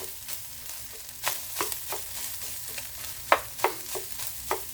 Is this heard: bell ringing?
no